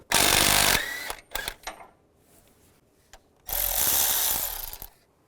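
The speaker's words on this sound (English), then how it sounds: "And then take this bolt out. Use a 14mm socket." A tool with a 14mm socket works a bolt free on a 2005-15 Nissan Xterra during a power steering pump replacement, making two loud, close mechanical bursts separated by scattered clicks and quiet.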